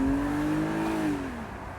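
A stock 2002 BMW 330Ci E46 convertible's engine hums and rises in a smooth, steady pitch, then eases back, heard from inside the car with no talking.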